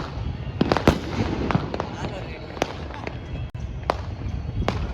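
Firecrackers burst in quick, scattered sharp pops, some near and some farther off, over a noisy crowd with people talking, during Uttarayan celebrations in Surat.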